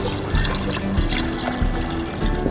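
Water splashes as it is poured steadily into a cooking pot holding onion, garlic, ginger and salt, set up to boil for a backyard pork-head dish. The pouring is close and continuous, with small splashy surges and no talking.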